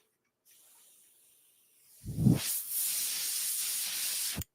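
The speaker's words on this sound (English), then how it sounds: "Airbrush is still working, chat. I just checked." Airbrush spraying paint on an SBD Dauntless scale model, a soft hiss running steadily for a couple of seconds after a brief low burst, close and moderately loud, stopping abruptly.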